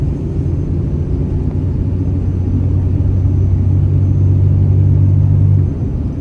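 A Cummins diesel tow truck pulls on a test drive, its low engine rumble holding steady and loud up close, then dropping off near the end as the gear changes.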